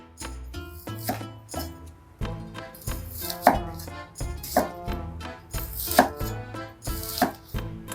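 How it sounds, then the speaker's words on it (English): A chef knife dices an onion in a steady series of sharp chopping strikes on a board, roughly one every half second with occasional louder clacks, close and clear, with some musical background underneath. "All right, let's do some dicing."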